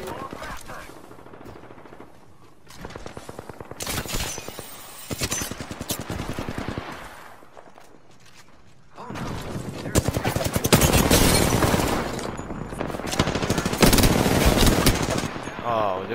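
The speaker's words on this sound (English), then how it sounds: "The enemies are shooting at me." Apex Legends gunfire during a firefight as the ring closes: repeated loud bursts of rapid automatic fire, some near and sharp, with quieter gaps between and heavier sustained shooting toward the end.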